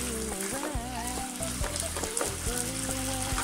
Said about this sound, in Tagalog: Also soy, stir-fried kangkong. Chicken stir-fried.